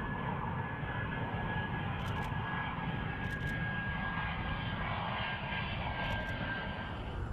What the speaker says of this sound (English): Since it can take off and land on regular runways, the F-35A is the most popular model.